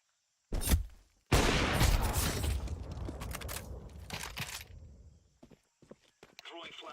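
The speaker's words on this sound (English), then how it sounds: "Throwing flashbang" A flashbang grenade in Counter-Strike goes off with a sharp burst, followed by a loud, sustained hissing roar that fades over several seconds, with faint clicks and a short tonal whine near the end.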